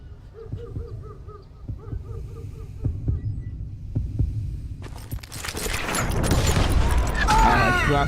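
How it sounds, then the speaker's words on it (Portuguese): A steady, low, thumping heartbeat pulses during a duel in a western video game, with faint cawing tones overhead, before a sudden loud burst of game noise drowns it out. "Ouve o batimento cardíaco,"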